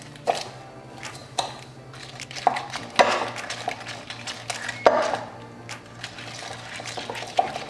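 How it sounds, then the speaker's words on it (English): Fruit pizza cookie dough being mixed in a bowl, with scattered scraping and clinking of a utensil against the bowl at an uneven pace, close by and without speech. "And now we're just going to mix."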